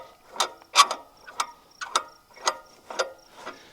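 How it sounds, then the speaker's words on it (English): Nut being spun off the pin assembly of a CLASP-IT mechanical grapple, giving a series of about eight sharp ratcheting clicks at a steady rhythm, close and fairly quiet with no talk. "you're going to spin this nut"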